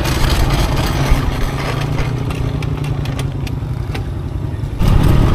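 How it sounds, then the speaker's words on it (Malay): A FZ 250 motorcycle engine runs steadily close by, a loud, continuous drone with rushing wind noise, surging slightly louder in the last half-second. "Depan aku Cikgu Zainuri ataupun Cikgu Forest dengan motor jentera barunya iaitu FZ 250."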